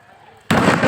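A firecracker bursts at a celebration during a school cricket match, a sudden loud crackling blast that cuts in after a moment of low crowd murmur and continues as dense noisy bursts.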